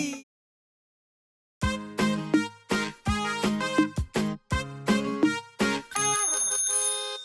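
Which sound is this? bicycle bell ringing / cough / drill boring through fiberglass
bicycle bell ringing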